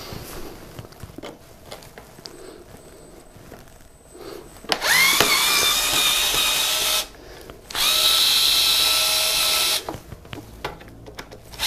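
Power tool driving out small Phillips screws from a motorbike cover in a garage, two sustained whirring bursts of about two and three seconds each, with quiet handling clicks and rustles around them.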